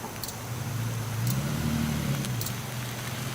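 A car engine revs in a clip played back on a stream, a steady low rumble that rises and swells briefly before settling, with faint clicks above.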